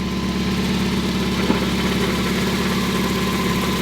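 Mazda Miata engine running steadily while driving in gear with a fresh clutch hydraulic refresh, a constant mid-low drone heard close and alone with no talk.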